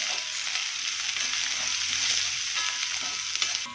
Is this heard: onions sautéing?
yes